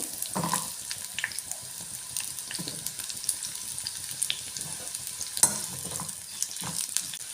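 Onion frying in a hot pan while a masala paste is prepared, giving a steady soft sizzle throughout with occasional stirring scrapes and clinks, close and moderately quiet, with no talking.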